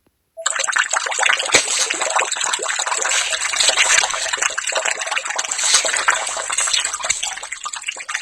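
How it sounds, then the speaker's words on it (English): Loud, continuous bubbling and gushing liquid, blood welling up in the horror video game Corpse Party Blood Drive, a dense watery churn that starts abruptly and runs steadily throughout. "As if accompanying the loud bubbling sound, the dull squish of a blade cutting into flesh was also faintly audible."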